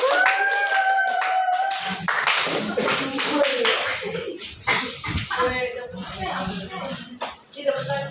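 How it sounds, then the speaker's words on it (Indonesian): A classroom of students claps hands during a practice teaching lesson, with uneven, scattered claps and some shuffling and tapping, while voices talk over and around the clapping. "tepuk tangan dulu untuk semuanya"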